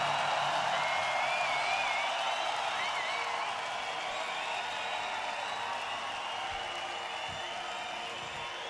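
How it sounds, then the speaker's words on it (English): A large outdoor festival crowd at Rock Werchter 2006 applauds and cheers after a live set by The Streets, a broad, sustained roar with occasional whistles and whoops, steady and distant-sounding. "Give yourselves a round of applause"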